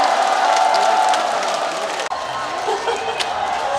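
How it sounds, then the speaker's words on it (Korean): Steady audience applause at an outdoor festival concert welcoming a singer, dense and even, with a brief sharp drop midway before the clapping continues. "큰 박수로 맞아주시기 바랍니다"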